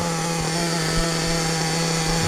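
A Hobao Hyper VS2 RC buggy's nitro engine runs steadily during break-in, a constant high-pitched buzzing whine that stays loud and unbroken throughout, with no talking.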